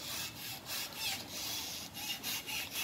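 A worn suspension link on a Volkswagen Passat rubs and grinds as it is worked back and forth by hand, giving repeated close, raspy scraping strokes in a steady rhythm.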